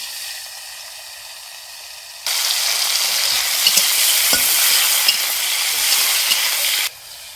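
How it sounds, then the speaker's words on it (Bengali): Prawns go into hot oil in a wok, and a loud, bright sizzle bursts in, holds steady with a few utensil knocks, then cuts back to a faint background hiss. "চিংড়ি মাছটা ভেজে নিচ্ছি"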